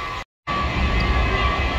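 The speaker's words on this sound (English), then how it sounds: "look at the train coming" A big train approaches from a distance, giving a steady low rumble with a faint tonal whine after a brief gap of silence, moderately loud and without talk.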